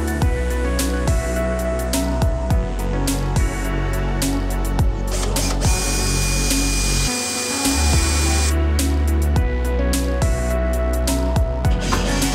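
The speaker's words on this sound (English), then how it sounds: "I can also just screw this to the back as well, so we're locked in" Power drill driving screws into 1 by 2 inch wooden struts while building a fish tank desk surround, heard as close, repeated short bursts of whirring with pauses between, alone without talk.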